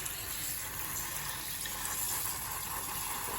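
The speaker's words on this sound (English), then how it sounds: "I can just basically use the sprayer and separate all the little plantlets from the agar" A hand water sprayer hisses steadily as it rinses Phalaenopsis orchid plantlets loose from agar, giving a continuous, fairly quiet broadband spray with no breaks.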